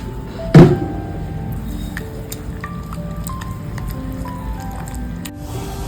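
A single wet squelch, then quiet soft squishing and faint dripping as flour and water batter is mixed by hand, with a few light clicks.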